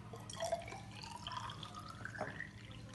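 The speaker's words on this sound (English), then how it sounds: "So you need to pour your water into your boiling tube." Water trickles and splashes briefly into a glass boiling tube, a light, close pouring sound with small drips.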